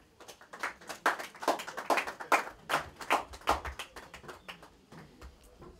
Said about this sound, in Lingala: Et les gens vont applaudir.